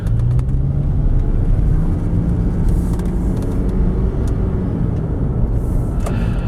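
A 2011 Toyota Prius on a test drive weaving through cones, giving a steady, loud, close rumble of road and cabin noise without variation or speech.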